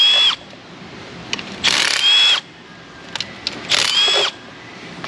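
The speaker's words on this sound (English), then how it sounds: "let's run through and get all the bolts holding down this upper manifold." A power drill or impact tool whirs in several short bursts as it backs out upper intake manifold bolts on a 2003 Chevy Monte Carlo 3.8 V6, with quiet pauses and small clicks between the loud runs.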